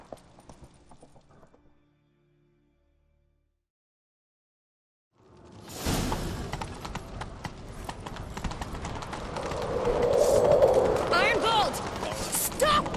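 A horse gallops in The Witcher 3, its rapid hoofbeats rising after a near-silent gap alongside busy game noise, with voices talking over parts of the action.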